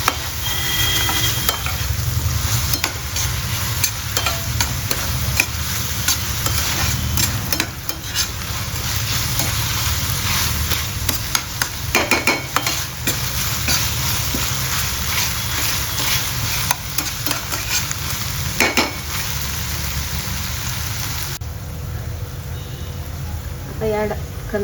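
Fried rice with chili sauce being stirred in a pan, a steady sizzle with scraping and clinking spatula strokes running continuously throughout, fairly close and prominent.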